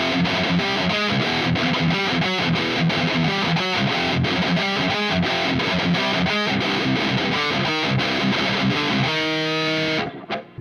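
Heavily distorted electric guitar played through a KSR Ares 50-watt tube amplifier, loud chugging riffs with rhythmic palm-muted chords and sustained notes, continuous for about ten seconds before stopping abruptly.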